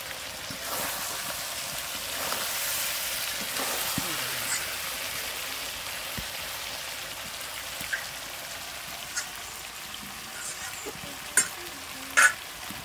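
Beef nihari with potato pieces being stirred in a pot, a steady soft sizzling and scraping texture with a few sharper clinks of the spoon against the pot near the end.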